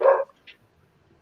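A single sharp bark from a dachshund, close and brief, followed by a faint yip, then near silence.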